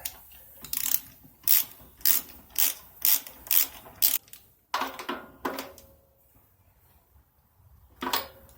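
A spark plug is threaded back into the engine of a 2001 Cub Cadet 3184 garden tractor, giving a run of about eight quick, evenly spaced ratchet clicks followed by a few scattered, closer metallic turns.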